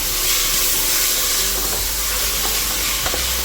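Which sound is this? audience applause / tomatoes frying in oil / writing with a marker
tomatoes frying in oil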